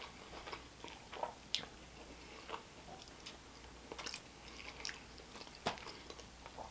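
Someone eats a taco topped with pineapple and lime, producing soft, intermittent bites and close, moist chewing with occasional sharper crunches, quiet and alone.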